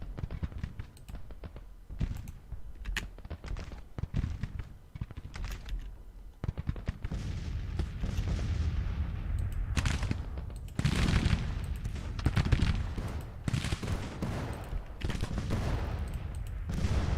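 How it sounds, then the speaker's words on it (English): Heavy musket volleys and artillery in a Grand Tactician: The Civil War battle at Antietam, with continuous crackling rifle fire and repeated sharp bursts building louder over time, mostly without talk. "there's a lot of heavy firing going on"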